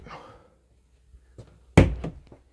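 An interior door between the living and sleeping areas of a home swings and shuts with a single solid thunk, close by, preceded by faint creaks and shuffling.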